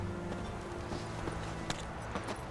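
Horse hooves in The Witcher 3 game, a soft steady clip-clop approaching over a continuous background of game ambience and low music.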